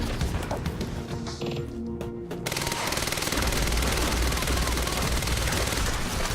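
Rapid SMG gunfire in the Quantum Break video game: after a short stretch of mixed game sounds and voice, a loud, dense, sustained burst of automatic shots runs steadily to the end.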